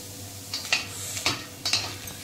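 French beans dry-roasting in a pan over medium gas, a soft continuous sizzle broken by a few sharp stirring scrapes and clinks of a utensil against the pan.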